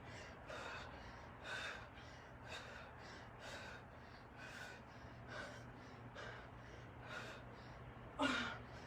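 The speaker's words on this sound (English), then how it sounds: "Just try to control your breathing best you can." Heavy rhythmic breathing during a core and strength workout, repeated sharp breaths roughly every half second to second, close and fairly loud, ending with a stronger gasp near the end.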